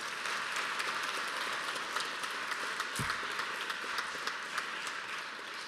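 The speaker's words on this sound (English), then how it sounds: "Can we give them a big clap?" Applause at a celebration-of-life memorial service, a soft, steady patter of many hands clapping from a crowd, somewhat distant and sustained for several seconds without voices.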